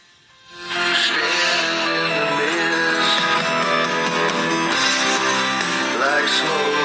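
Song with adult contemporary production fades in and then plays continuously at full level, a dense, sustained music bed with layered tones and no talking over it.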